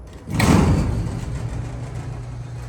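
A Montgomery A series freight elevator door slides with a rumbling clatter, then the car's low mechanical hum carries on steadily, loud and close.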